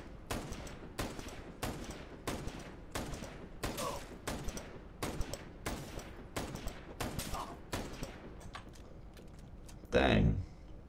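Video game gunfire rattles off in a steady string of sharp, evenly spaced shots, loud and close, with a heavier burst near the end and a voice talking faintly underneath.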